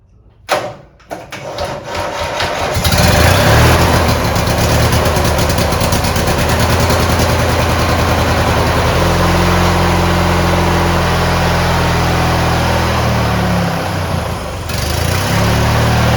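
A 1993 Craftsman lawn mower engine sputters a few times, then catches and runs steadily at a loud, close, even idle for most of the stretch, with a brief dip near the end before settling again.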